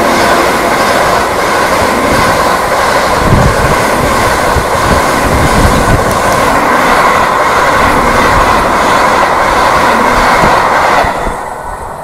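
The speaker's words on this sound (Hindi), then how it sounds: "नई Delhi Varanasi junction reverse Vande Bharat express ने अभी यहाँ पर अपनी ट्रेन को ओवरटेक कर लिया" The New Delhi–Varanasi Vande Bharat Express overtakes on the railway with a loud, steady roar of wheels and rhythmic clatter heard close up, easing off in the final second.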